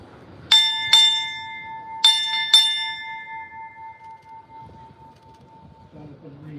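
Four ship's bell strikes ring out at a United States Navy retirement ceremony, sounded in two quick pairs with a clear tone that hangs and fades slowly, followed by quiet room ambience and a faint voice at the end.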